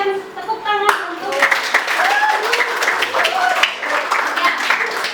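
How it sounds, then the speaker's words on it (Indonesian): Students in a university literature class clap as an audience, a dense burst of applause that starts partway through and continues steadily, while a voice and other sounds rise briefly over it. "Berikan tepuk tangan untuk"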